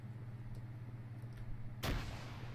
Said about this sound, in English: Well, it looks like we might have a grenade. Let's try that.